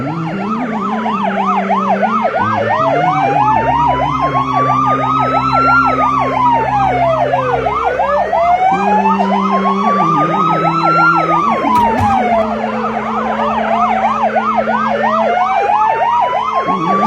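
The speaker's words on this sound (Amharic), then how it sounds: "ኧረ እሱ አለ ኧረ አምቡላንስ" A loud ambulance siren wails continuously, its pitch sweeping up and down in repeated cycles over a steady rumble of traffic, with no talking.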